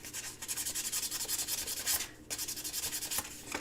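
Rapid rhythmic rasping of sandpaper rubbed by hand against metal, steady back-and-forth strokes with a brief pause midway.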